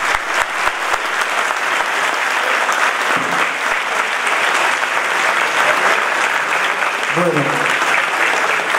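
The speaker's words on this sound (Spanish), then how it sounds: "Un aplauso para Nicolás Castañón." Sustained audience applause from a crowd at a talk on Malvinas myths, a dense steady clapping wash that stays loud throughout with a few brief murmurs near the end.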